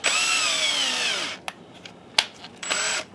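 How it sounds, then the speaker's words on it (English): A power drill drives screws back into an Optoma UHD51A DLP video projector, with a long whirring burst, a few clicks and taps, then a second shorter whir, loud and close, with no talking. "Let's get these screws back in"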